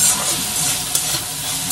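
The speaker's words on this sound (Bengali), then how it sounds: "এই চিকেনটা নুন আর হলুদ লঙ্কা দিয়ে একটু ভেজে ভেজে নিচ্ছি।" Chicken frying in a pan with salt, turmeric and chilli, a loud, close, continuous sizzle with soft stirring scrapes throughout.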